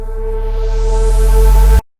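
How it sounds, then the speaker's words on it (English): A reversed vocal swells alongside a reversed sub-bass drop in a San Holo-style electronic production, building steadily louder over about two seconds before cutting off abruptly into silence. "there is another reverse vocal and a reversed sub drop from San Holo"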